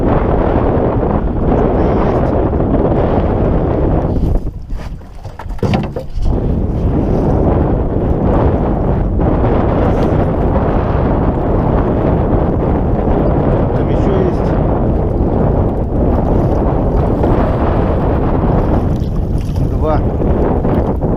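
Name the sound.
strong wind and waves at sea on a boat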